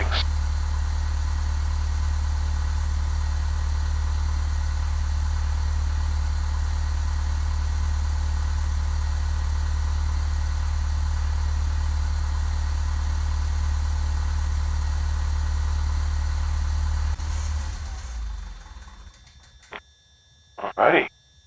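Aircraft engines idle in Flight Simulator X while parked at Ft. Lauderdale Executive: a steady low hum for about seventeen seconds, then it winds down and falls silent, followed by a brief click near the end.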